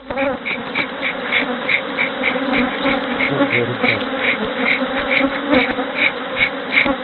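Steady, dense buzzing of many honey bees around a hive at an apiary, continuous and fairly loud throughout, with a droning hum that swells slightly in places.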